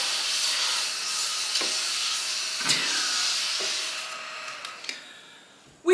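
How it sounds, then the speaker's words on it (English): A small white desk hoover with little brushes underneath runs close by in a home office, giving a steady high whirring hiss with a few brief clicks and a louder knock at the end. "It's a desk hoover."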